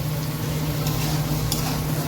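Potatoes frying in a home kitchen pan as they are stirred, a continuous close sizzle with a low steady hum underneath and a couple of faint scraping clicks from the stirring.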